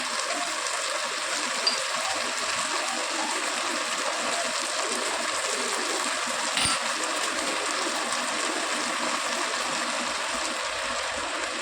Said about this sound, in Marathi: पुलाव करताना ना ह्यामध्ये गरमच पाणी टाकायचं आहे